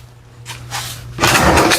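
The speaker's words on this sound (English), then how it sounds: "Also need to close the door." A door closing in a woodworking shop, a short soft swish followed by a louder thump and rattle at close range, with no talking.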